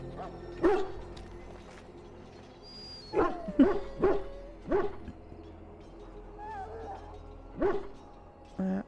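Dog barking and yipping in the Dragon Age Origins video game, several sharp barks spread across the clip with whimpering yips between them, close and moderately loud over a low game ambience.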